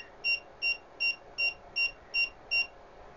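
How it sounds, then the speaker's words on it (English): A BG5CQV SWR power meter's alarm gives seven short, identical electronic beeps at a steady, quick rhythm, clear and close over a faint background hiss. "Let's see if the alarm works also. It works at 2, I think. Yeah, it starts to beep."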